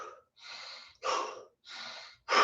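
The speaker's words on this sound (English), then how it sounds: "So, you should hear yourself breathing." Heavy breathing while resting between kettlebell sets comes through as four close, audible breaths in a steady rhythm, each a loud rush of air with short pauses between.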